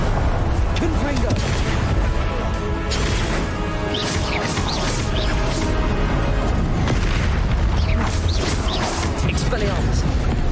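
Confringo blasting-curse explosions in the video game Hogwarts Legacy, loud crashing booms and impacts packed through a dense, continuous battle soundscape, with voices talking over the fray.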